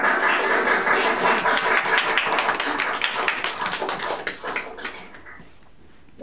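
A round of applause from a small group of people, loud and close, steady clapping that fades out over several seconds.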